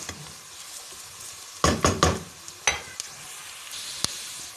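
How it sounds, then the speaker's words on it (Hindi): Onions sauté lightly in a pan under a soft, constant frying hiss, broken by a few sharp scrapes and clatters of a spoon stirring against the metal, with no talking. "बहुत ज़्यादा आपने प्याज को ब्राउन नहीं होने देना, बिल्कुल हल्का सा सौटे करना है"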